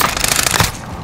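Rapid automatic gunfire in Call of Duty Warzone, a loud close burst of repeated shots that cuts off partway through, leaving quieter game ambience.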